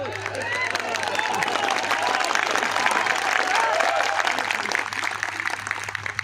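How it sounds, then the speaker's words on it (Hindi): An audience at a live comedy show applauds, dense sustained clapping with some crowd noise that swells slightly mid-way and then tapers off, with a low steady hum underneath. "बजाते रहे ताली।"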